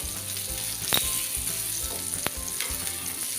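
Slices of surmai (kingfish), spice-coated for a crispy masala fry, sizzle steadily in hot oil in a pan, with a couple of sharp crackles and pops cutting through the continuous close, bright hiss.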